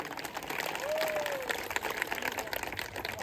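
Audience applause at a Bhagwat Katha religious gathering in a saints' dera, a soft, steady patter of many hands clapping, somewhat distant and faint, with a brief tonal sound drifting over it.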